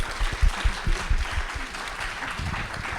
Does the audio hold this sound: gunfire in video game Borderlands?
no